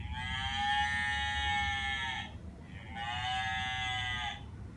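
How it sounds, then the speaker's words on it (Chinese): Two drawn-out cow moos come from a pull-tab farm sound book, each lasting about two seconds with a short gap between, clear and fairly loud over a faint electronic background hiss. "哇，有哞哞的牛的声音呢"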